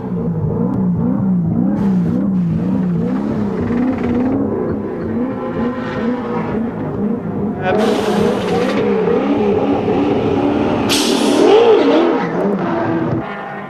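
Touring race cars, including a Ford Sierra, roar past during the 1991 Bathurst race, engines droning and revving loudly with sharp gear-change bursts as they pass, continuous and close.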